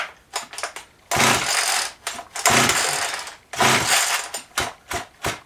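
A Husqvarna Model 50 chainsaw with a decompression valve has its starter cord yanked several times in a row, each pull a loud, rasping whir of the recoil mechanism and cranking engine, separated by short pauses.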